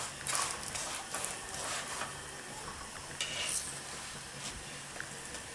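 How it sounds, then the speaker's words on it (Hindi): A layered square paratha crisps on a hot pan with a soft, steady sizzle and occasional light scrapes and taps of a utensil, faint and close, with no talk. "ये देखें अभी से ही आपको आवाज़ आ रही होगी ये कितना क्रिस्पी बन रहा है"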